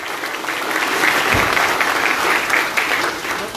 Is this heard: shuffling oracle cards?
no